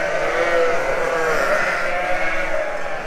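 A flock of ewes on a farm bleats in a dense, continuous chorus of overlapping calls, loud and close.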